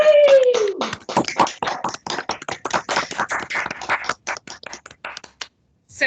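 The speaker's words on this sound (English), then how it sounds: "let's give a massive round of applause for all of our amazing reps" Scattered, fairly close clapping from a small group honors reps at an education awards ceremony, opening with a brief descending tone, then fading to a few last claps and silence.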